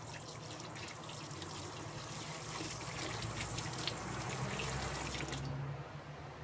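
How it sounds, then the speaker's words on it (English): An espresso machine dispersion screen is rinsed under a running tap, a soft steady gush of water splashing against metal that stops abruptly near the end. "the dispersion screen will have coffee on the back side of it, and we want to clean all of that off. And so we're going to rinse it"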